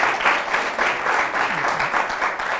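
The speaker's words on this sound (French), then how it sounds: "On l'applaudit très fort." Loud, lively applause from a studio audience welcoming a US embassy diplomat onto a talk show, a thick, even clatter of many hands that swells in pulses and carries on for the whole moment, with a faint voice briefly underneath.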